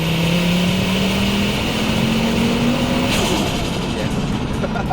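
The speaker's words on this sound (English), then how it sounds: "You're just tickling a turbo there" Ford Focus RS Mk2 with a five-cylinder turbo engine running at low boost, accelerating with a loud, steady drone and a rising whine, heard from inside the car.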